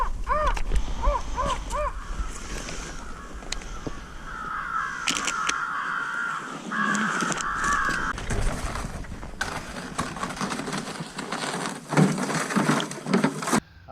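Crows caw repeatedly in a New York field during a crow hunt, harsh calls in short bursts, some near and some farther off, with occasional thumps and rustling and no talk.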